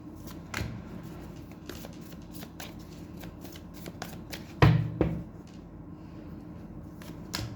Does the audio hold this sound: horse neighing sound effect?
no